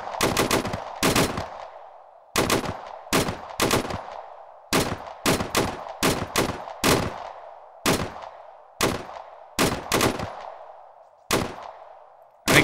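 Gunfire in ARMA 3 during an assault on Zelenogorsk in Chernarus: repeated loud bursts of automatic weapon fire, short clusters of sharp cracks separated by brief pauses, with decaying echo and no talking.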